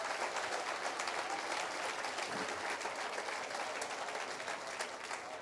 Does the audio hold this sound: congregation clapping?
yes